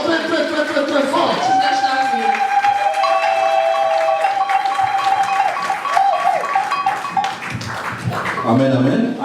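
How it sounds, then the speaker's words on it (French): A church congregation welcomes an evangelist with clapping and loud cheering, sharp hand claps scattered through sustained shouted and sung voices that stay strong throughout. "sous nos acclamations, nous recevons l'évangéliste Pacheco et nous l'acclamons très fort."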